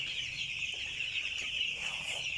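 Five-day-old broiler chicks at a farm housing 2,675 birds keep up a dense, continuous chorus of high peeping, a steady wash of many small voices heard at moderate distance with no talk.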